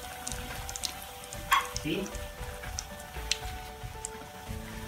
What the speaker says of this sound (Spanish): Tenemos nuestro aceite caliente y ahí simplemente vamos a ir poniéndolas